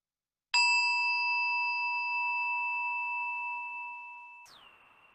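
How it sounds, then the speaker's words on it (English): A single struck mindfulness bell rings out clearly, its pure sustained tone slowly fading over about four seconds before a short, softer sound ends it; nothing else is heard. "Listening to this bell, we are reminded to come back home to ourselves."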